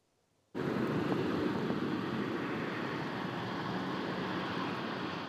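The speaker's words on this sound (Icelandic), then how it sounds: "Flugvél EasyJet að lenda á Akureyri í vikulegu flugi frá London." An EasyJet airliner landing at Akureyri airport in Iceland, a steady broad jet roar that starts abruptly and stays loud and constant throughout.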